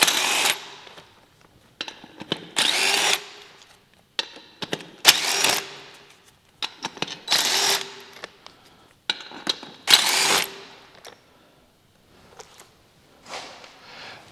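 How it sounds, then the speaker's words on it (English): A cordless power driver spins lug nuts off a Kubota BX tractor wheel in a series of short whirring bursts separated by pauses, close and fairly loud, with no speech. "We can just use our driver and take these off the rest of the way."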